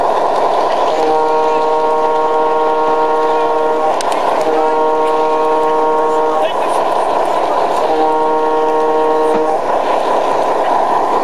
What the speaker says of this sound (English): This is John's train going through the S's.